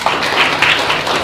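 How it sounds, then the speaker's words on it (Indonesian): A brief burst of clapping from a small gathering at an anniversary event, quick scattered hand claps close by lasting only about a second. "Tepuk tangan dulu dong semuanya."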